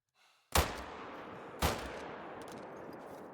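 Two sharp rifle shots ring out in a hunting video game as a tahr is targeted, each a loud crack with a decaying tail, roughly a second apart, no talking.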